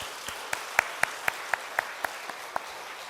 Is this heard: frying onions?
no